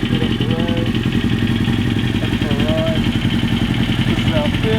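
A Suzuki GSX-R SRAD motorcycle engine idles with a steady, close, continuous rumble, while a person talks over it and faint whistling tones drift above the engine note.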